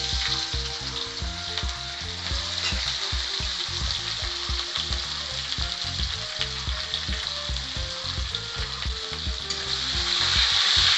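Onion sizzles steadily in hot oil after garlic, a dense continuous frying hiss with occasional stirring knocks, growing slightly louder toward the end.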